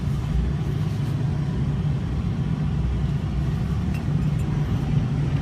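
A 2012 Ford diesel 4x4 truck drives over a bumpy road, giving a steady, loud cabin rumble with low engine drone throughout and no speech.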